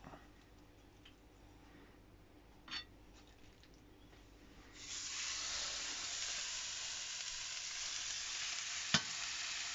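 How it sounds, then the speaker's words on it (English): A steak frying in a seasoned pan, a quiet start that swells into a steady, even sizzle, with a couple of brief knocks and no voices. "you want to fry that steak off"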